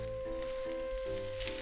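Meat-wrapped rice balls sizzling steadily in a pan over medium heat, a constant close frying hiss with a low hum underneath and no talk.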